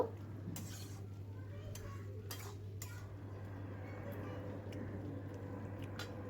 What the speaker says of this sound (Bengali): এবার এতে আমি একটু ভালো করে একটু নেড়ে নেব